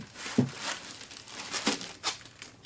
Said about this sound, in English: concentrate on getting rid of the foam that protects it in transit